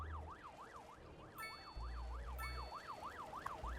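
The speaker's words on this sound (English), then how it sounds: "I hear sirens." Emergency vehicle sirens in the city-building game Cities Skylines 2, a regular rising-and-falling wail that repeats steadily at moderate volume over low engine rumble and a few bright chime-like tones.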